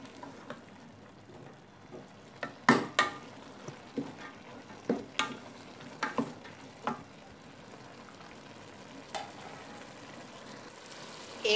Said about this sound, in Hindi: इसके अंदर अब आप थोड़ा सा, ½ कप से कम ऑयल मिला के इसको थोड़ा सा भून लें दाल को